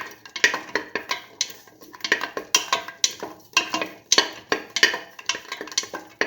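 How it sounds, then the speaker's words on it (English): Shallots with salt are sautéed in a pan, heard as a quick run of close, sharp spatula and metal scraping strokes in an uneven rhythm. "Keep on sauteing."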